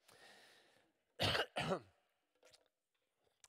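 Two sharp, close coughs ring out during a church worship service, after a soft murmur and before a few faint, scattered noises.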